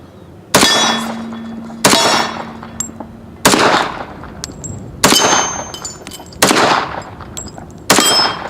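Six sharp, loud shots from a Remington R1 1911 Government model .45 ACP pistol, spaced about one to two seconds apart, each a crisp crack with a ringing tail, close by with no talking.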